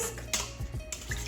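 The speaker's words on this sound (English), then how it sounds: "Whisk." Egg, milk and melted butter whisked in a bowl give quick light clinks and scrapes of a whisk against the sides, close and fairly quiet.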